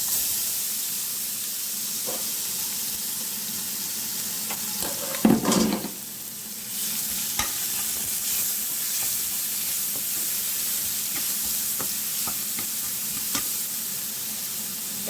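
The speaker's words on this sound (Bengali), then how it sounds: "এবার রসুন আর মাছের তেল একসাথে ভেজে নেব" Garlic paste and fish oil frying together in oil in a wok, a steady close sizzle running throughout with a louder burst of spatter and stirring near the middle and occasional scraping clicks.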